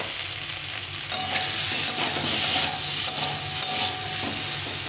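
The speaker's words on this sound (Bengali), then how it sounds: "এখন এই আলুটাকে আমি একটু ভেজে নেব, মাছ ভাজার তেলের মধ্যে এটা ভেজে নেব।" Potato pieces frying in oil left over from frying fish give a continuous crackling sizzle, with stirring scrapes standing out partway through and no talk.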